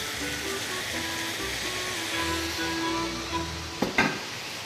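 Food frying in oil in a pan on a home stove, a steady crackling sizzle throughout with a few louder pops and a brief clatter near the end.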